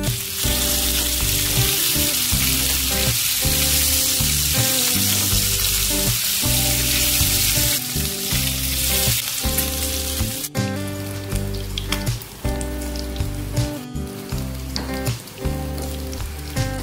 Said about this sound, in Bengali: এবার এক এক করে মাছগুলোকে দিয়ে ভালো করে মিডিয়াম ফ্লেমে ফ্রাই করে নেব